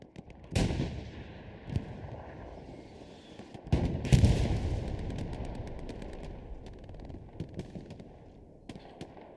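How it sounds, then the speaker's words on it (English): Battlefield explosions boom across open fields in the video game Hell Let Loose, with sharp distant blasts, one heavy near detonation with a long rumbling decay, and scattered cracks of gunfire. "Already exploding in the fields here."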